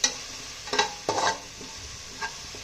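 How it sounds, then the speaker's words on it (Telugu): Curry leaves dropped into hot oil while cooking a mixed non-veg biryani, with soft frying sizzle under a few sharp scraping stirs of a spoon against the pot, close and fairly quiet. "దీంట్లో కొంచెం కరివేపాకు వేసుకుంటున్నానండి"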